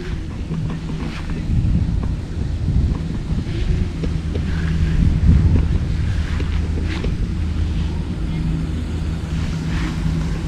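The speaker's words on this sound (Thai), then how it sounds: "เอ้าลมมาแล้ว" Wind gusts buffet the microphone while a Betta fish-shaped kite is flown outdoors, a loud, continuous low rumble that swells and eases, with no clear speech.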